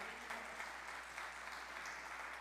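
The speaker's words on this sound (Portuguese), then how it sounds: "Dê um forte aplauso ao Senhor." A congregation in church applauding for the Lord, a steady wash of clapping heard from a distance, fairly faint over a low hum.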